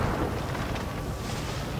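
A tank explodes in the online video game World of Tanks, giving a broad, rumbling roar that stays fairly even and subdued across the moment, with no speech over it.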